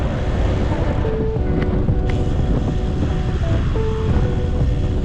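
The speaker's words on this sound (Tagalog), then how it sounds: "Lakas ng hangin!" Strong wind roars steadily across the microphone outdoors while people walk and cross during a ride, a loud, constant buffeting rush with no voices.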